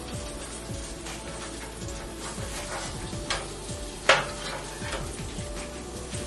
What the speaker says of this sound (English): now I'm going to flip over our fish